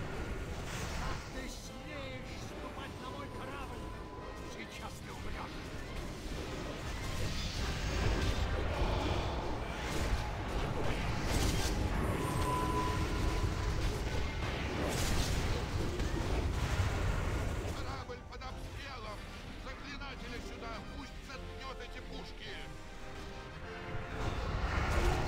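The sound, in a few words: cannon fire in a video game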